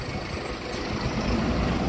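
City buses on the Eldorado line pass along a busy road, a broad, steady low engine and tyre roar that swells slightly as they go by, with no talk.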